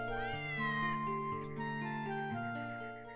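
A cat meows repeatedly in Dark Cloud, with several drawn-out, tonal calls in close succession over steady game music.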